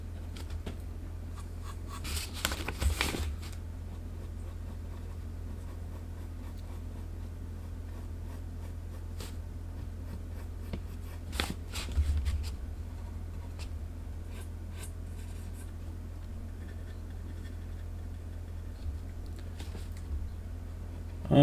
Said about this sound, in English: I'm going in now with a mechanical pencil just to get a little bit more fine tuning going here with the pencil work.